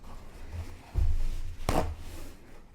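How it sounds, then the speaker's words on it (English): A single short, forceful nose blow bursts out midway, broadband and noisy, with faint low room sounds around it. "but I got to blow my nose."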